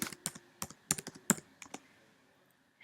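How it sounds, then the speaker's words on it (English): A search query is typed on a computer keyboard, a quick run of close, crisp key clicks that trails off into near silence. "you're going to type Freud plus Erikson"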